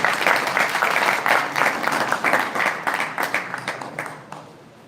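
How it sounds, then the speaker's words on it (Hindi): Audience applause at a live stage event swells immediately into dense, loud clapping from a crowd, holding steady for several seconds before thinning out and fading. "एक बार जोरदार तालियां।"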